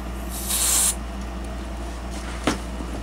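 Spray can aimed at an old RCA WV510A VoltOhmyst meter while it is powered on: a short close hissing burst over a steady electrical hum, followed later by a faint click.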